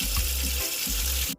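Tap water runs steadily over raw oxtail in a sink, rinsing the blood off the meat before seasoning for curry oxtail; a close, continuous splashing gush with a short break near the end.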